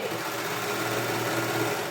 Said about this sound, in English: we're going to just overlock that down together. It makes it super quick.